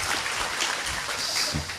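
An audience at a religious gathering during Ramadan applauds on cue, dense steady clapping from many hands at moderate volume with no break, and no voices over it.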